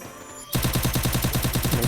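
Automatic gunfire in the mobile game Free Fire bursts in after a short quiet moment, a fast, loud, evenly spaced volley of shots rattling on without pause.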